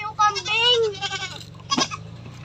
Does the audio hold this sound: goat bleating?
yes